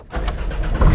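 A Porsche Cayman GTS engine cold-starting, a brief crank that catches into a loud, rough idle rising in volume by the end, with no talk over it.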